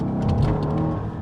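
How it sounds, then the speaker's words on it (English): A Mercedes CLS 63 AMG twin-turbo V8 engine rumbles steadily and loudly, its deep throaty note rising slightly as it revs, with no voices. "So hear that V8 and the twin turbo spooling up."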